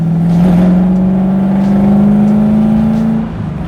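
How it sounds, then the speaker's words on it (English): Supercharged V8 drift truck with fabricated widebody driving, a loud close engine drone whose pitch climbs steadily under acceleration before easing off at the end. "So I'm driving the truck right now."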